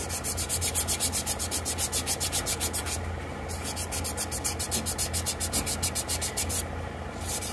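Steady, scratchy rubbing against a hard, smooth lacquered surface repeats in quick back-and-forth strokes, close and continuous with a faint rhythmic ticking behind it.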